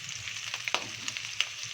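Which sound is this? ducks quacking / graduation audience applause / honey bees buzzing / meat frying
meat frying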